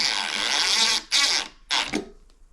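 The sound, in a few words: screw gun driving screws into window air conditioner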